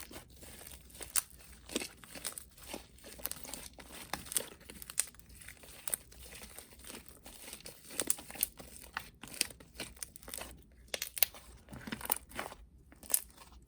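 Wet, sticky slime being squished and pulled by hand in close-up, a steady run of crinkly crackles and popping snaps with irregular rhythm, no talking.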